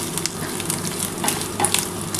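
Grated coconut frying in a pan for a vegetarian chana dal, a light continuous sizzle with crackling pops and a few stirring scrapes, close and moderately loud.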